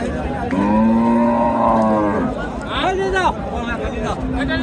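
Cattle at Chowbaria livestock market in Naogaan, Bangladesh, moo loudly and close by in two long drawn-out calls, with crowd chatter and voices underneath.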